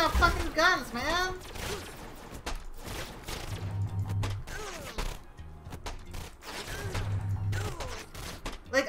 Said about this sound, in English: You got fucking guns, man!